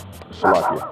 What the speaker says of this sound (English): that was a neighbor's dog